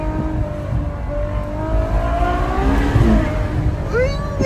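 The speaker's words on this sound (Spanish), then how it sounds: "A ver, hay que hacerlo rugir. A mí tiene un V12" A Ferrari 812 Superfast's V12 engine revs hard on a Formula 1 circuit, rising and falling in loud throttle sweeps over a steady rumble, with faint voices underneath.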